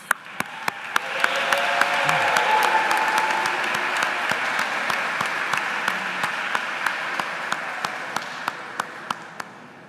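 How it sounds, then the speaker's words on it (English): Full, steady applause from a large audience at a school of education pre-commencement ceremony, honoring the graduates; a dense wash of clapping builds and holds, with a few crisp nearby claps standing out above the crowd. "one more round, please, of applause for our graduates"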